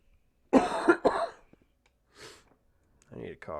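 Several harsh coughs come close to the mic in two quick bursts. After a pause there is a softer throat-clearing rasp and a few more brief coughs near the end.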